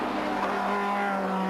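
Formula 3000 race cars from 1985 rush through a chicane, a steady, loud engine drone with a high whining tone holding level throughout.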